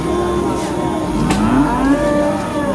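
A black cow lows loudly in a long drawn-out moo, close by, at a livestock market, with steady crowd chatter and background noise all around.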